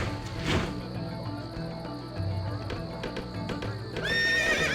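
A horse in the Empire Earth strategy game gives a loud, clear neigh over a bed of game ambience, with clip-clopping hooves and interface sounds around it, and a second whinny rises near the end.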